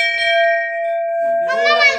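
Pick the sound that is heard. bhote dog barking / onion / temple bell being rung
temple bell being rung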